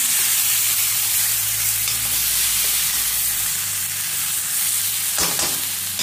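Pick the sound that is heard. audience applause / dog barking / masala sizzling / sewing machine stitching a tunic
masala sizzling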